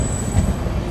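The Tirupati–Puri Express, an LHB-coach train, arrives at platform 3 of Betraguntha station with a low rumbling roll of wheels and a thin high whine, loud and near.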